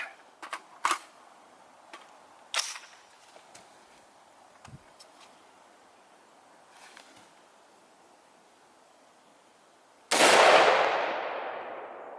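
A green tip 5.56 NATO rifle round is fired at a tire rim outdoors: a few faint clicks and handling noises, then one loud, sharp shot that decays slowly into a lingering echo.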